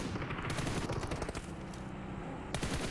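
Gunfire from a PUBG Mobile esports match: rapid automatic bursts crackle loud and dense, almost continuous over a few seconds, with no voices.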